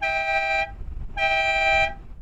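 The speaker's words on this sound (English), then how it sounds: "I press a button, then I get dual horns" A car horn honks twice in bright, brassy blasts of about half a second each, separated by a short pause, loud and close.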